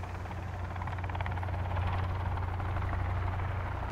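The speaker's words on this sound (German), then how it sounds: "Hubschrauber." Helicopter in the survival video game Sons of the Forest, a steady rotor thrum with a deep low drone and chopping blade pulse, continuous and fairly close, with no talk.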